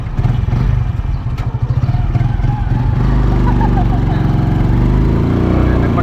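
A motorcycle tricycle's engine chugs steadily while it rides, a loud close putter with rough clatter, as voices talk over it.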